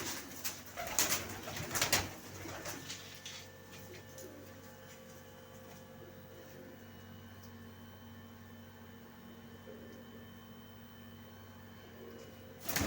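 Soft, low coos of pigeons kept for sale against a steady background hum, with a brief burst of clatter and voices near the start.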